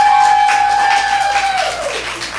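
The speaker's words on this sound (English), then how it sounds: "Round of applause if they believe that Theodosia walks among them." An improv show audience votes by applause, with crowd clapping and cheering under a loud, sustained whistle that slides downward and fades.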